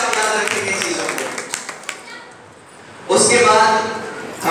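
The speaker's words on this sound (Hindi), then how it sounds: "एक बार इन लोगों के लिए ताली" An audience at a wedding claps for the cameramen and photographers: scattered claps, then a burst of full applause near the end, alternating with an emcee's amplified voice.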